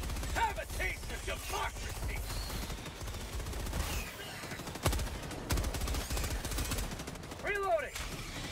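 Oil cannon firing in the Helldivers 2 video game, a sustained stream of rapid shots and bursts with heavy low rumble, with players talking now and then over the gunfire.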